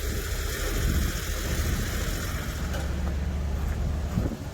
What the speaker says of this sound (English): It's just a gas engine, but we like to warm them and cool them up.